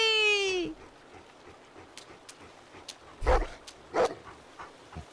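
A dog barks and whimpers in The Walking Dead: The Final Season video game: a rising whine at the start, then a few sharp, loud barks spaced apart over quiet background.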